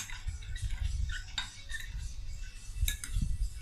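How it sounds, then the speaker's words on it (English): A spoon stirs a homemade three-ingredient Oreo ice cream mixture in a bowl, giving soft repeated scraping and light clinks, close and fairly quiet, steady throughout with no talk. "So just keep on mixing it nicely."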